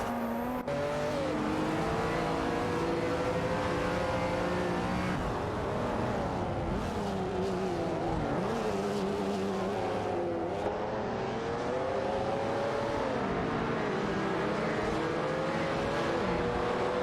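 Several race car engines in a racing video game, among them a Pagani Zonda C12, drone and whine continuously at steady loudness, pitches rising and falling as the cars chase each other closely, with faint tyre squeal now and then.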